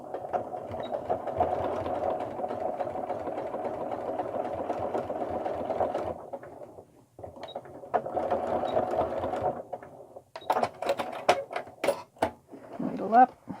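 A sewing machine hems a pair of jeans in a long, steady stitching run, stops briefly, then stitches again in shorter bursts; near and moderately loud, with a few clicks and handling noises toward the end.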